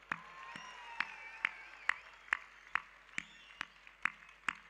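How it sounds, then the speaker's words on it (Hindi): Sparse, slow clapping from a small audience at a poetry recital in a college hall, about a dozen distinct sharp claps at regular intervals over a faint background murmur. "तालियां बजाइए"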